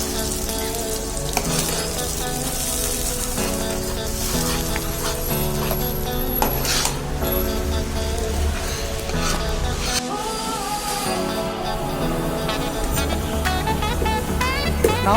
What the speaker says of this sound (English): Now heat it and put all the tomato puree into this vessel